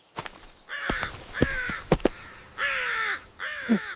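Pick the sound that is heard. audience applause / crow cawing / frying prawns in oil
crow cawing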